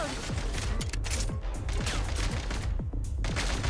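Rapid gunfire in the Genshin Impact video game, a fast, steady stream of close, evenly spaced shots lasting throughout, over a dense layer of game sound.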